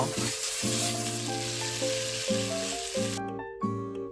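Soaked glass noodles sizzle steadily in olive oil in a pan, a broad hiss under melodic background music that cuts out near the end.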